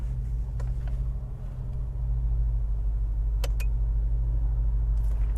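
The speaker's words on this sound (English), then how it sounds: "There the car turns on." A BMW M8 Competition Gran Coupe engine runs with a steady, close, low rumble after the start button is pressed. It grows slightly louder partway through, and a few faint clicks sit above it.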